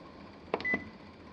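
A microwave oven keypad gives a couple of short, bright electronic beeps in quick succession while the cook time is being set, heard close up against a quiet room.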